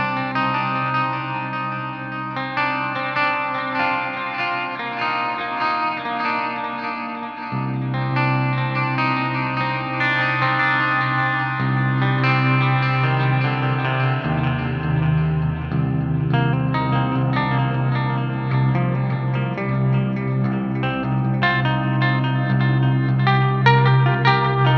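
Electric guitar played through wet chorus and reverb effects with some gain rings out in sustained chords and melodic lines, loud and continuous with no talking.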